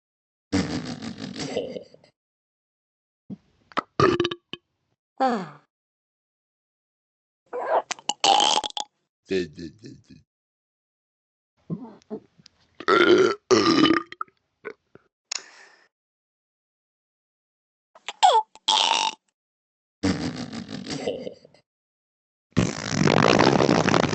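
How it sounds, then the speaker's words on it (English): Two people trade loud burps in a burping contest, a series of separate croaking belches of varying length spaced by silences, ending in one long rough burst. "I bet I could beat your bum in the burping contest."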